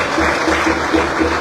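A crowd at a Liberian presidential ceremony with President Boakai claps briefly and steadily: a short burst of massed applause over a low background hum.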